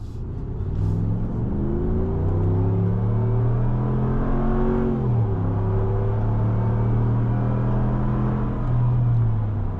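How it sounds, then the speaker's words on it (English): A 2026 Ram 1500 Big Horn Black Widow pickup truck's engine pulls hard under acceleration, its steady rising drone dipping briefly mid-run and climbing again, loud and close from inside the cab with no talk. "Good sounding engine."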